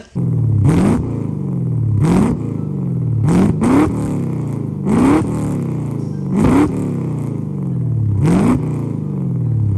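A Japanese car fitted with an aftermarket muffler, revved hard six times in a steady rhythm. Each rev rises quickly and then drops back to a deep, rumbling idle. The sound is close and loud, with no talking.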